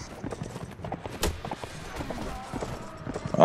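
In a medieval strategy video game, a horse's hooves clip-clop in an uneven stream beneath the clatter of combat, with a snort or whinny toward the end and some talk in the background.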